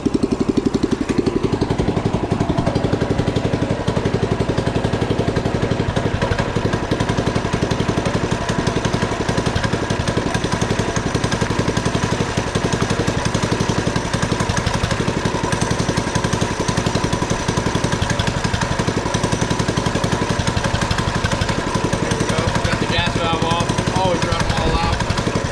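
A BT200X motorcycle engine runs steadily and loudly the whole time, a constant rough drone with a rattling edge and slight voice underneath.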